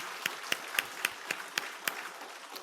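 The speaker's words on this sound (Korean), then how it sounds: "우리 환영의 박수 한번 드리겠습니다." Faint, evenly spaced claps ring out in a Korean church service, a slow steady beat of single handclaps from the congregation, quiet and somewhat distant.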